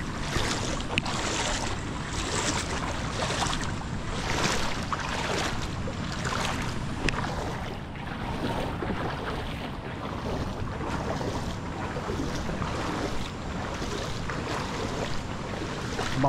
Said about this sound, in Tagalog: Lumalakas ng ulan.